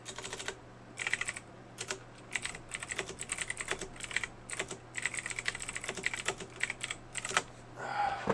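Fast typing on a computer keyboard, quick irregular bursts of close key clicks with brief pauses, fairly quiet against a low steady hum.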